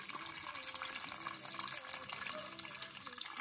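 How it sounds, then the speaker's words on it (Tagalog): Water runs from a tap into a pot of rice being prepared for lunch, a continuous gentle splashing and gurgling fill with faint background hum, quiet and close, no talking. "Lalagyan natin siya ng tubig."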